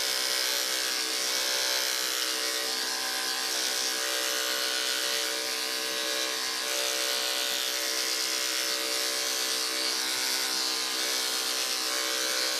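Electric clippers shaving a poodle's feet during grooming, a steady high-pitched buzzing hum running unbroken and close up, with no talk.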